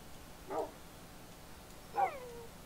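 Dogs in the video game Minecraft give two short, close whimpering yips about a second and a half apart, with quiet room tone between them.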